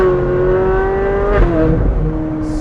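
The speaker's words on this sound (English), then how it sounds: "Stock 458 already sounds amazing, of course, but they have this exhaust." A Ferrari 458 Spider with an iPE aftermarket exhaust revs, its high engine screaming at a steady pitch, then dropping briefly before climbing again, loud and close.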